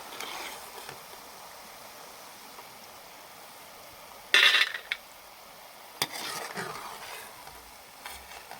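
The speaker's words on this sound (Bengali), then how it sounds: "এগুলোকে এইভাবে আস্তে আস্তে ভেজে নেব" Peanut pakoras fry in oil with a faint, steady sizzle, broken by a couple of sharp utensil clinks and scrapes partway through.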